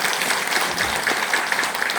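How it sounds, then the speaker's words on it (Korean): Applause from a lecture audience, a brief burst of dense, fairly loud clapping from many people in a hall, steady throughout with no clear speech. "박수 한번 쳐주셔야 돼요."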